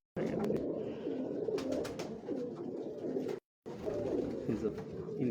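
Domestic pigeons of the dub breed coo steadily on a Lahore rooftop, a continuous layered cooing from several nearby birds that fills the clip, with a brief silent gap partway through.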